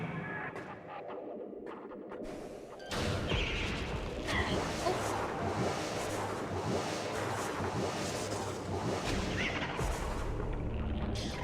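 Missiles fire in the video game Metroid Prime, heard as a sudden loud whooshing burst that settles into a dense, continuous roar and rumble of weapon fire and game action, with faint talk beneath.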